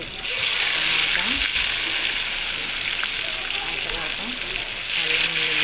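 Onions for chicken biryani frying in hot oil, a steady bright sizzle that holds loud and even throughout, with faint background movement.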